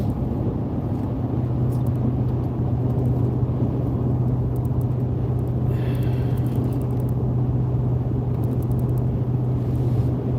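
A car cruises on the highway at a steady 55 mph with cruise control set, its engine and road noise a constant, even rumble inside the cabin, with no change in pace and no talking.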